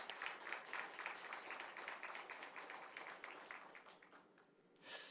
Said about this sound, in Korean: 우리 선교사님 네 분들 향해서 한번 크게 박수하겠습니다.